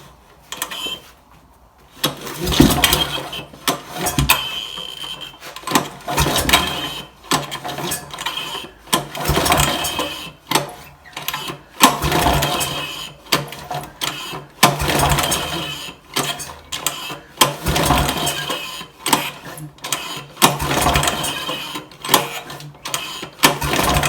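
An old Kohler K181 single-cylinder engine from an auction being cranked repeatedly, bursts of pulling and turning-over sounds in an irregular rhythm with short pauses between attempts, close and moderately loud.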